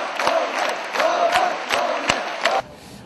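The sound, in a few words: students giving a standing ovation and shouting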